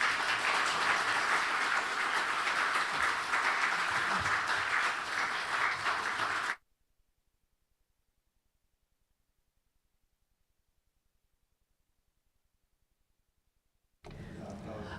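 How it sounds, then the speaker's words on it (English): A conference audience claps loudly for several seconds, then everything cuts to silence before applause briefly returns at the end. "I believe this round of applause at the end really has shown everything"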